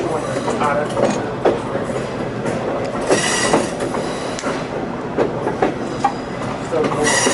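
A Western Maryland Scenic Railroad train with a sizeable locomotive rolls past close by, wheels clattering and squealing in repeated bursts over a loud, steady rumble.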